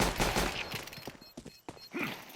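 Several rapid gunshots crackle in a Counter-Strike match, likely frag grenades and Dual Elites fire in a Team Liquid vs SAW quarter-final at PGL Masters Bucharest 2025, arriving in bursts of varied loudness with gaps between them.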